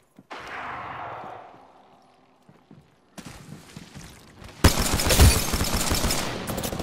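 Video game gunfire comes in two bursts of rapid shots, the second louder and denser, after quieter movement sounds in an online shooter match, with no talk.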